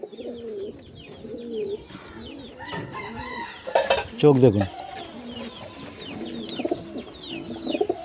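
Pigeons cooing in repeated soft, throaty phrases close by, continuing under a voice and a brief burst of handling or flapping noise midway.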